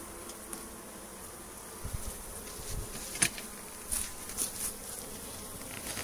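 Honeybees buzzing around an opened hive during a March inspection, a dense, steady hum from many bees close by, with a few louder bees passing near and faint handling knocks.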